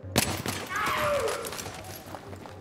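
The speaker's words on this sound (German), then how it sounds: "Ich mach jetzt mal einen Schuss auf den Kopf, ja?" A single sharp gunshot fired at an enemy's head in the co-op game Battlefield 3, a loud crack near the start that fades into game ambience while players talk.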